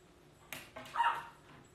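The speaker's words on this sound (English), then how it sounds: "You hear the dogs barking?" Several dogs barking from another room, faint and muffled, a few short yaps clustered over under two seconds.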